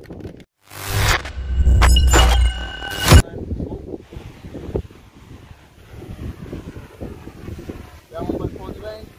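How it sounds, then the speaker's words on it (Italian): Strong wind gusts buffet the microphone in an open outdoor spot, with rough broadband rushing that swells and eases over several seconds, including one loud, sharp gust burst early on. "Abbiamo un bel po' di vento."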